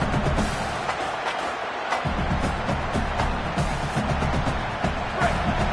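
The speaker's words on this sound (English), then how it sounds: "Listen to this crowd just shaking the girders of this place, trying to help their defense." A large stadium crowd roars continuously in an NCAA college football video game, a dense, loud wash of cheering and shouting that swells slightly partway through.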